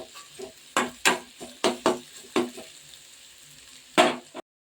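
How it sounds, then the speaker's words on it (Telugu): Crispy corn kernels deep frying in hot oil, with a steady sizzle under loud popping bursts and stirring clatter repeating roughly every half second, ending in one big crackle before cutting off. "డీప్గా ఫ్రై అవ్వాలి కొంచెం"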